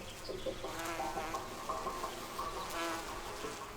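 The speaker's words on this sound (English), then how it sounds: "Honeybees recognize their own colony by scent." Honeybees buzzing at the hive entrance while guard bees chase off an intruder from another colony, a close, steady drone with several overlapping wingbeat tones.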